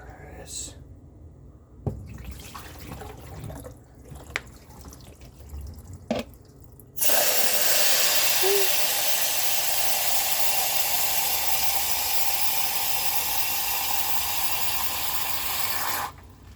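Water gushes steadily from a water heater being flushed after a few scattered clicks and drips, the loud rushing stream running for several seconds before cutting off abruptly.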